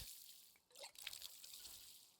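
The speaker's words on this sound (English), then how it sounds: "Water it a little bit more." Gentle trickling and dripping water as plants are watered in the tea shop game Wanderstop, a soft, brief splash effect without any voices.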